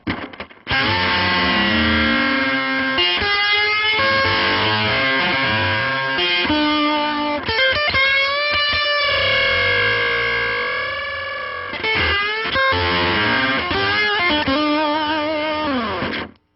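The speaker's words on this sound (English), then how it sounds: "you get this really crazy kind of like almost flanging or like a phasing sound" A loud distorted electric guitar plays long bending notes through a swirling, sweeping flanger-like effect, sustained for many seconds with no voices.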